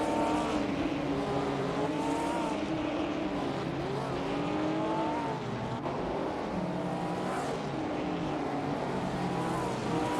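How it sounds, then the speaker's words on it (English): Several 1950s sports cars race in a video game simulation, their engines droning steadily and loudly throughout with rising and falling pitch as they accelerate and pass, a continuous dense motor roar with no talk. "We're currently watching an intense racing simulation with R-driven cars"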